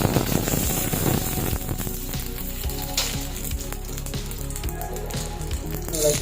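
Curry leaves and dried red chillies crackle and sizzle loudly in hot oil with popping mustard seeds, a steady close-up frying hiss with sharp bursts while a beetroot pachadi is made.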